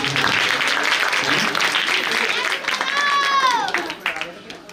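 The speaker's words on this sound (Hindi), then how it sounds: "एक बार जोरदार ताली बजा दीजिए संगीत वाले भैया।" Loud, dense applause from the audience at a live Shrimad Bhagavat Katha religious discourse, steady for about three seconds before thinning out while a musical tone rises and fades near the end.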